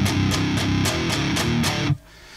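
Distorted electric guitar plays a riff with a heavy palm mute near the bridge, chugging low notes with regular accented picks, loud and close, and cuts off abruptly near the end.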